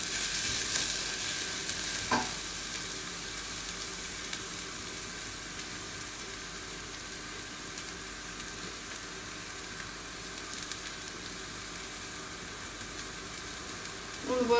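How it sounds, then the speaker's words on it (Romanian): Onion and garlic fry in a pan with a steady, close sizzle that holds unbroken from start to finish, with no one speaking. "am călit bine ceapa și usturoiul și acum o să adaug o puțină boia"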